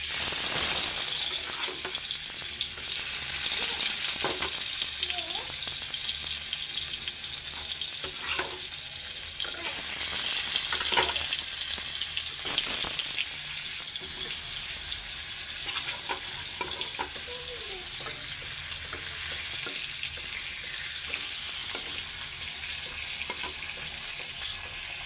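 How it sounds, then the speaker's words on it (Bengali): Fish washed and rubbed with spices fries in hot oil, giving a loud, steady sizzle that runs unbroken throughout with no voices. "তো মাছটা আমি ভাজতে দিয়ে দিই"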